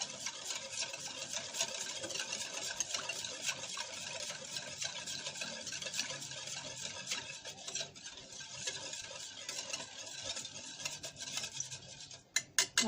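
Fruit chaat being mixed with Rooh Afza syrup in a bowl, a continuous soft scraping stir, fairly quiet and close, ending with a few sharper knocks, no voices.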